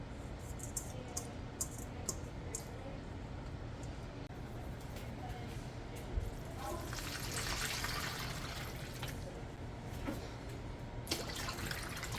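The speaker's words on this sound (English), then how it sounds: "And give these a good rinse, and then we'll get them going on the stove." Produce being rinsed under a running kitchen tap, a steady close rush of water with occasional splashes and drips, louder bursts near the end, no talk heard.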